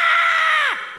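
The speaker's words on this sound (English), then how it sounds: "Matt, Ryan, would you mind playing that again but jacking up the scream super loud?" A loud, sustained scream from a video game plays back at high volume, a single drawn-out shriek that falls in pitch and fades after about a second.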